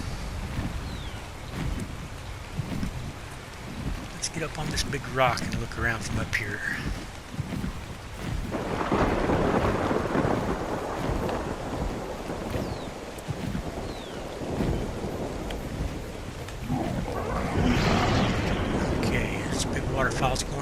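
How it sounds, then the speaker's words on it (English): Rain falls in ARK: Survival Evolved on the Lost Island, a broad hissing wash that swells loudly in two long stretches, with someone talking over it at times. "And here it goes to raining, messing up my sightseeing day."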